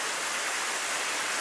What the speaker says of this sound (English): away from the noise of the falling rain.